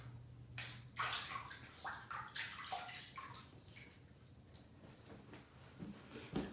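Tap water splashing and trickling into a sink as a face is wetted before a shave, quiet and close, with irregular splashes and gurgles.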